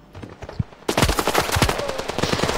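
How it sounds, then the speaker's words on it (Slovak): Rapid automatic gunfire from the mobile shooter Standoff 2 breaks out suddenly, a dense stream of sharp shots rattling on without a break after a brief quieter lead-in. "niekto ma tu zozadu strieľa"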